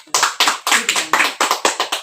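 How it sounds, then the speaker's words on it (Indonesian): About nine sharp, separate hand claps in a steady, slightly uneven rhythm, close and fairly loud, like a small group clapping together during a Sumba family comedy skit about a regent candidate's speech. "Tepuk tangan dulu"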